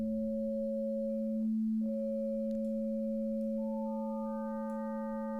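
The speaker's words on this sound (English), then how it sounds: "so you just get a sine wave." A synthesized sine wave tone holds steady and clean, with a second higher tone briefly dropping out and returning, then several faint higher overtones stepping in one after another near the end.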